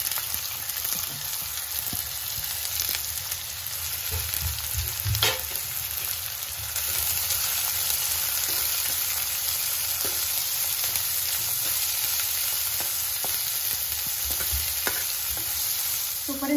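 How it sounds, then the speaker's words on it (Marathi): Finely chopped onion sautés in a pan with cumin, giving a steady close sizzle and crackle, with occasional scrapes and knocks of stirring throughout. "आणि नंतर आपल्याला याच्यात बारीक चिरून घेतलेला कांदा चांगला लालसर रंग येतो"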